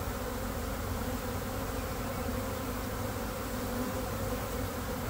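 A honey bee swarm fans hard while clustered in a tree, giving a dense, continuous buzzing drone close by with no break or voices over five seconds.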